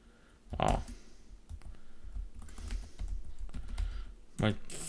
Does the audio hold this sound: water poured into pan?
no